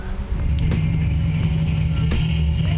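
A Toyota AE86 race car engine drones steadily at close range at a racetrack, a low, continuous rumble with slight rises in pitch.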